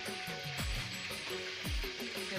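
Puffed rice (muri) frying in hot oil gives a continuous bright sizzle and crackle, close and moderately quiet, with a few soft stirring scrapes and no talk.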